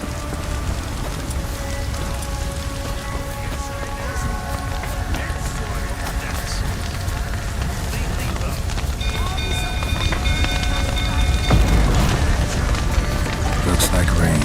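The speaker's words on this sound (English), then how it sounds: "Looks like rain." Steady rain falling in The Witcher video game, a constant hiss that runs the whole time beneath tonal game sounds and effects, growing slightly louder toward the end.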